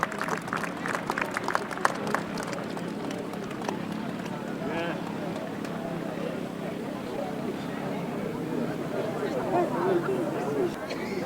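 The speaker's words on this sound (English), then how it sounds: "ladies and gentlemen, give them a big round of applause." Crowd at a grasstrack motorcycle race clapping in a steady, moderately distant round of applause with scattered sharper claps, mixed with background chatter and a voice speaking over it.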